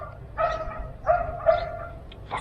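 Dogs bark about four times in short separate yaps over a low road rumble, heard at a moderate distance with no talk.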